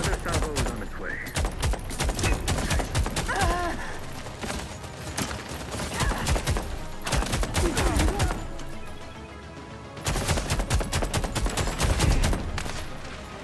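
Rapid salvos of gunfire in The Expanse shooter video game, dense cracking bursts in long runs with short breaks, loud and close, with voices talking over the shooting.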